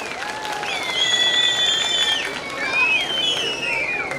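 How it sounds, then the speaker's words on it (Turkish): A large crowd at an outdoor sheep-shearing festival in Beytüşşebap claps and cheers in a sustained burst that swells twice, with whistles and calls riding over the ovation. "Bu yapılan emeğe karşı ben büyük bir alkış istiyorum"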